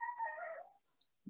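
A pet dog sounds off nearby during an online economics talk, giving a drawn-out, howling bark with a wavering tone that fades after about a second, followed by a brief low thump.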